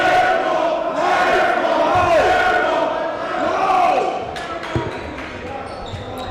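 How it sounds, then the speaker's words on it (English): A crowd roars and cheers at a boys varsity high school basketball game, Pascack Hills against Westwood, a loud sustained gym din with sneaker squeaks and a ball bounce, under an announcer's commentary. "Crowd's fired up tonight."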